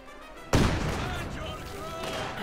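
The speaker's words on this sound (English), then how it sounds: "There we go, rifle grenade up." A rifle grenade fires in Company of Heroes 2 on the Eastern Front, a sudden loud boom followed by a sustained rumbling decay over background battle noise.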